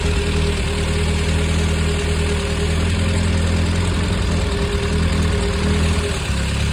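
A Triumph Spitfire engine idles steadily at close range, a constant low rumble with an even, unchanging hum and no voices.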